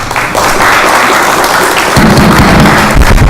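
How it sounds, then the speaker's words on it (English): Gallery audience at a county board meeting claps steadily and fairly loudly for the full stretch, a dense wash of hands that swells slightly partway through. "Please, everyone in the gallery, we don't need to clap after every person has stepped up to the mic."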